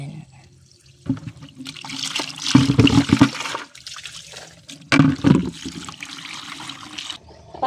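Water splashing and pouring in bursts during an outdoor bath from a tank on a hot day, with louder gushes near the middle and end over a steady background, and a person talking intermittently.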